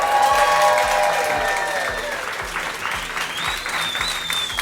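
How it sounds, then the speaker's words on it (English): Wedding guests at a New Orleans reception applaud the couple, a dense, steady burst of clapping from a crowd that gradually softens, with a few cheers and electronic tones sounding faintly over it. "How about a round of applause for these two?"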